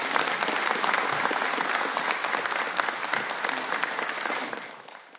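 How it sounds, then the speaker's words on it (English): Audience at a state gun-law bill event applauding Paul and the others who worked on it, a dense burst of clapping that holds steady, then fades near the end. "A round of applause to Paul and everybody else who's worked so hard."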